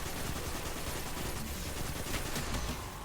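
Dense, continuous gunfire against snipers in a Destiny Lost Sector run (Bunker E15), a rapid rattling barrage that stays loud and unbroken for a few seconds.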